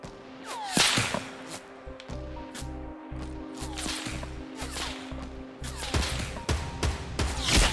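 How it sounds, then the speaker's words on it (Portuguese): Gunfire in Fortnite Battle Royale cracks out in sharp, loud single shots and short bursts, with rhythmic thumping footsteps pulsing underneath in the middle stretch. "Os caras estão metendo bala com tudo"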